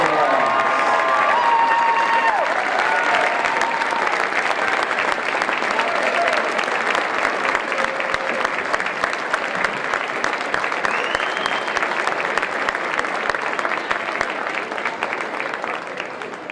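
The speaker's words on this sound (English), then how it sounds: "Let's give our seniors and parents a round of applause." A basketball game crowd applauds seniors and their parents with sustained clapping and scattered cheers and shouts echoing through a gym, loud and steady before tapering slightly at the end.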